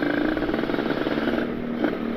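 A Kawasaki Ninja RR motorcycle with an aftermarket ABRT20 exhaust holds a steady mid-range drone with a throaty, slightly raspy tone, loud and close throughout.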